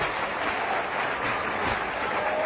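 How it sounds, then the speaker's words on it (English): Steady crowd applause fills the ground after a goal in an Australian football practice match between North Melbourne and Geelong, a broad continuous roar of clapping with no voices on top. "He's going to get the high fives and head off the ground just to make sure that he gets full applause from the crowd."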